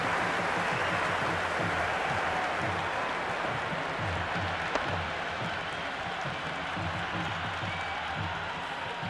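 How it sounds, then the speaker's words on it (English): A packed cricket stadium at an IPL match between CSK and MI roars with continuous loud applause and crowd buzz, a steady dense wall of sound with no break. "There's a buzz, a real buzz coming from the stands."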